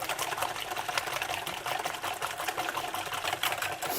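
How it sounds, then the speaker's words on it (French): A whisk beats orange-blossom-flavoured waffle batter in a bowl, giving a fast, even clatter of rapid ticking strokes that runs continuously and fairly close, with no voices over it. "pour bien lisser ma pâte, je vais mettre un petit coup de fouet"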